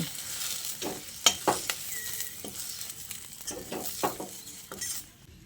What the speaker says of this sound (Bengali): আর এই রেসিপিতে ঢেঁড়সটাকে এরকম একটু লাল লাল করে ভেজে নিতে হবে